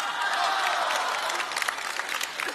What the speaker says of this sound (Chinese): 用热烈掌声欢迎栾云平给大伙演一个